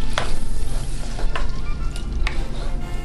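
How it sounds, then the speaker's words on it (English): A pan of tomato sauce is stirred, probably jarred sauce, with a steady close sizzle and scraping bubbling throughout and a few brief sharper clicks of a utensil against the pan. "Give it a good stir"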